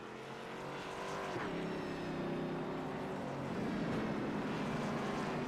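An iRacing race car at Hickory Motor Speedway pulling onto pit road, its engine droning steadily with a rising whine as it slows and shifts, moderately loud and alone.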